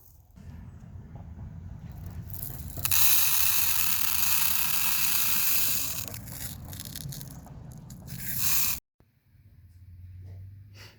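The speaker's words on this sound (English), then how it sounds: "Now we're going to put 10 ounces of beads in this tire." Tire balancing beads scooped and poured into a Double Coin 295/75/22.5 truck tire, a loud gritty rushing patter that runs for several seconds, stops abruptly, then leaves a quieter rustle.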